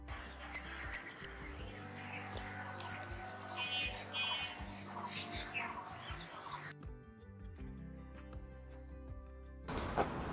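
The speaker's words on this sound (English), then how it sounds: "a kingfisher's call isn't so impressive. It's usually just a single or a short sequence of high-pitched whistles and sounds" Kingfisher calls: a quick run of high-pitched whistles, then a steady series of about a dozen evenly spaced sharp notes, close and clear, ending in quiet before a brief rustle.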